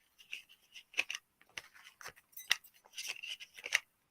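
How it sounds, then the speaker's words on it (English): A new pack of tarot-style cards is shuffled by hand in a quiet room, giving scattered crisp papery flicks and soft slaps in irregular bursts, close and fairly faint, with no speech. "This is how we shuffle a new pack to connect all the imagery into our subconscious"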